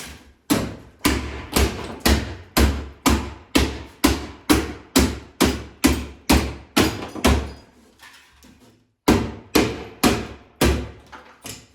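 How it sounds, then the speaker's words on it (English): A ball hammer knocks out an interior wall during demolition in an industrial building, a series of heavy, evenly spaced thuds with a short pause near the end before the blows resume. "You want to knock that out with the ball hammer?"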